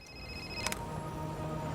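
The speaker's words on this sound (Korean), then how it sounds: "그가 허무한 상상을 하는 그때 그에게 걸려오는 한 통의 전화" In the film The Secret Life of Walter Mitty, a telephone gives a brief electronic ring, a short tonal burst partway through, over a steady hiss of background noise.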